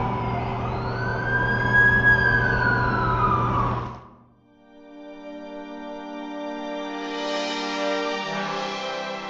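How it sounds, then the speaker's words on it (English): A loud wailing ambulance siren in The Amazing Spider-Man 2 video game sweeps up and down close by, then switches to a steadier, higher electronic tone after a brief dip. "That's the ambulance I called."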